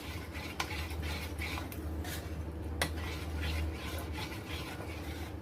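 A spoon stirs a milk powder mixture in a bowl, making soft repeated scraping and light clinks of metal against the dish over a low steady hum, with no talking.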